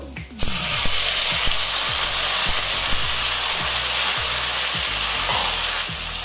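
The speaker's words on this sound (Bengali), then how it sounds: "এবারে দিয়ে দিচ্ছি কেটে রাখা টমেটো" Chopped tomatoes hit a pan of lightly fried garlic for a tangy tomato dish, setting off a loud, steady sizzle with rhythmic scraping stirs ticking through it and no voices.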